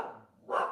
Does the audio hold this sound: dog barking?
yes